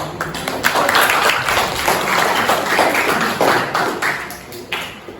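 Audience applause at an illustration art class, a steady patter of many hands clapping at a constant level for about five seconds, with no voices over it.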